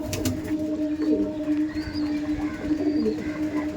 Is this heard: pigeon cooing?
yes